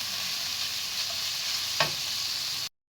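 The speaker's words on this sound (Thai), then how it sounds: "ถ้ามันจับเป็นก้อนก็ยี ๆ ให้มันแยกจากกันหน่อยนะคะ" Pork stir-frying in a hot pan for spring roll filling, a continuous loud, close sizzle with one brief scrape of a utensil near the end before it cuts off abruptly.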